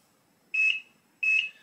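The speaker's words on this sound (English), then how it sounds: "But it beeps to start up." Two short, bright electronic startup beeps from a Tamiya Grand Hauler RC truck, each lasting about a quarter second, with a pause between them and near silence around them.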